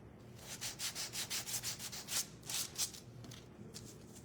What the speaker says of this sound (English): Go ahead and sand this down.